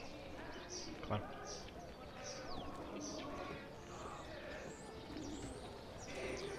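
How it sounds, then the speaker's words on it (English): Birds coo and chirp in the ambient soundscape of the video game Assassin's Creed Revelations, with repeated short calls scattered over a steady busy background, and a brief knock near the start. "Some of the birds sound a bit like the chest twinkle."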